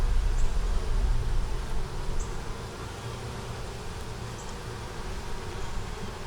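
Honeybees at an opened hive that had swarmed make a dense, steady buzzing drone that fills the whole stretch, close and even, with no voices.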